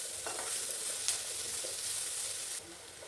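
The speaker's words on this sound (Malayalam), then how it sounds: "അങ്ങനെ സവോളയും വത്തലമുളകും കൂടി നന്നായിട്ട് വഴറ്റിയെടുക്കാം" Sliced onions and three dried red chillies sautéing in a hot pan, a continuous bright sizzle broken by stirring scrapes and a couple of sharp utensil knocks before the hiss drops off near the end.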